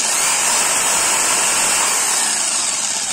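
A Bosch PST 650 jigsaw runs while cutting through wood, making a loud, steady, close, high-pitched buzzing whine with no talking.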